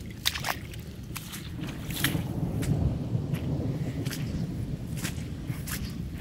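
Heavy rainwater pours down the ground like a small river, making a continuous low rushing rumble close to the microphone, with sharp splashes and knocks scattered throughout.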